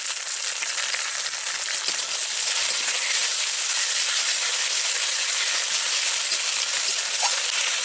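Chopped tomato frying in a pan with garlic and ginger paste and green chilli, giving a steady, dense sizzle that holds evenly throughout at close range.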